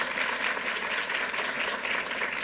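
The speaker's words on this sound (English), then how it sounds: "Let's give a round of applause to Assemblymember Rosenthal." An audience at a gun safety event with Governor Hochul applauds Assemblymember Rosenthal, a dense, even wash of clapping that holds steady throughout, with no voices over it.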